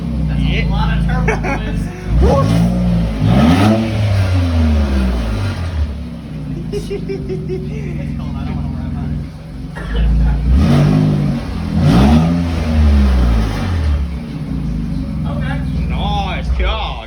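An Infiniti Q60 engine running without its exhaust fitted revs loudly and close in several rising and falling pulls over a deep idle rumble, while people talk throughout.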